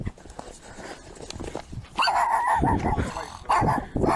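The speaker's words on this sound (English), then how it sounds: "It's a vicious dog." A vicious dog barks and growls in the video game Path of Exile 2, several loud close barks in quick bursts over game noise, with someone talking faintly.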